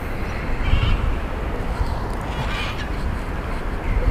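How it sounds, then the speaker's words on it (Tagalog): Seabirds call over steady surf and wind at Bondi or Maroubra Beach in Sydney, a few harsh squawks rising above the constant ocean wash. "Ay, ang ibon, no?"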